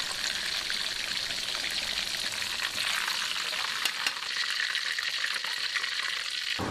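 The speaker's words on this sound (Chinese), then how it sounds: "锅中油温六成热，下锅炸" Tofu skin rolls stuffed with minced pork filling deep-frying in hot oil over medium heat, a loud continuous bubbling sizzle with faint stirring, close and without talk.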